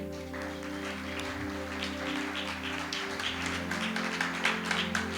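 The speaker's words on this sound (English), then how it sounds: "Can we clap hands for him?" Many hands clap at once in a church congregation, a dense, patter-like spatter that builds slightly louder over a steady low electronic hum.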